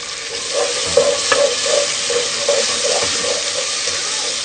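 Garlic and ginger paste with tomatoes fries in a pan for aloo matar, a steady sizzle overlaid by a rhythmic scrape of stirring repeating roughly every half second, close and fairly loud.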